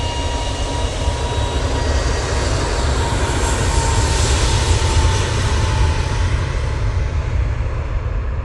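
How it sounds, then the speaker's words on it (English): An Airbus A321neo taking off from Manchester bound for Faro gives a powerful, continuous jet-engine roar, heavy in the low end and steady throughout, close and loud with a faint whine on top. "They're off to Faro with that 321neo."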